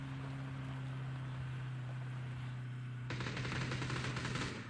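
Gunfire in the PUBG video game: a steady engine-like hum with a tonal drone, then a dense burst of rapid automatic shots near the end, with no talk.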